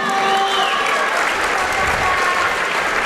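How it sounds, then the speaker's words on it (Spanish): A crowd at a boxing event applauds the two boxers, a dense, steady wash of clapping lasting throughout, loud and close, with some crowd noise mixed in. "aplauso para ambos, por favor, fuerte el aplauso."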